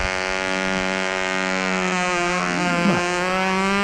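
An OS Max 35 glow engine on a control line model plane, running steadily with a loud, high buzzing drone whose pitch wavers slightly as it goes rich and lean.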